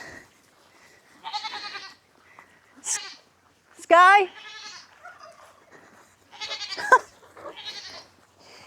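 Goats bleat several times in short wavering calls, close by and fairly loud, separated by gaps, while a person talks to them between the bleats.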